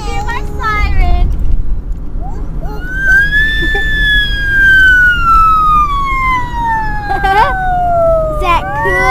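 A young child imitates a police siren with a long rising and falling wail, loud and close, and brief voices can be heard around it.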